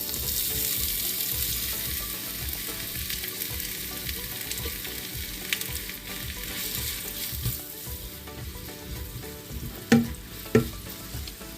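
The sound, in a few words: chopped onions frying in ghee in a heavy pot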